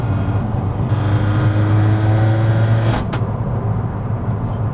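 A Peugeot 308 GTi fitted with a decat downpipe drives along, its engine a loud steady drone heard from inside the cabin, rising in pitch for a few seconds before a short rush and the drone settling lower.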